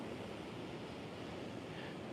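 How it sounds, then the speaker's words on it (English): Ocean waves break against rocks in a steady, unbroken roar of surf, with no voices present. "the water crashing there against that, and you get that ocean view from your sideline as well"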